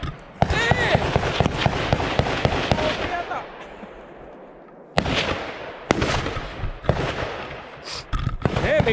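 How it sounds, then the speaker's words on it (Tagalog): At an outdoor shooting range, an M203 grenade launcher fires a series of sharp, heavy booms that echo into a fading rumble, loud and spaced irregularly, while people talk in between. "May kumakalabog daw, may M203 yata doon."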